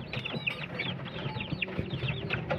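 Several chickens clucking and chattering together nearby, a busy overlapping flock sound with no talking.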